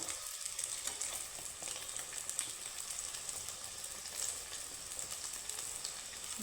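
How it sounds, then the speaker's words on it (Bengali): Flour balls fry in hot oil with a steady, fairly faint sizzling hiss and soft bubbling that stays even throughout, without any voices. "তো এইভাবেই আমি বাকি দুটো আমি ভেজে নিচ্ছি"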